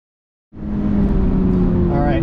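A 2022 Toyota GR86 sports car on a race track, its engine suddenly roaring in close and loud during a heel-and-toe downshift, a steady sustained drone with rising tones near the end.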